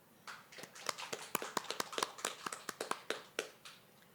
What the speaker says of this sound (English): Let's applaud our graduate.